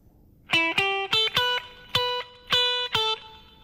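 Electric guitar playing a blues phrase of about seven sustained, slightly overdriven notes in an unhurried rhythm, with no voices.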